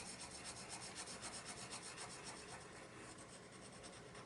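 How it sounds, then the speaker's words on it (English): Colored pencils burnishing layered colors together on paper in circular strokes under heavy pressure, a steady close soft rubbing and rasping that continues without a break, quiet and alone. "we're going to try to just kind of burnish all these colors together"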